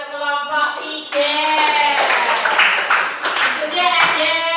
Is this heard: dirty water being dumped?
no